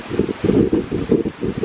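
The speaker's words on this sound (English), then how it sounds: "although that is very, very windy. So I don't even know if you can hear me right now" Strong gusting wind buffets the microphone at an exposed overlook in the Presidio of San Francisco, roaring in uneven pulses close and loud with no voices heard.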